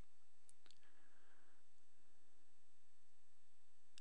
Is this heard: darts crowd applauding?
no